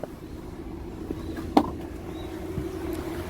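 A 2019 Maruti Suzuki Ertiga VXI Smart Hybrid petrol manual idling very quietly, a low, steady hum with a faint tonal drone and one brief click partway through, soft and close.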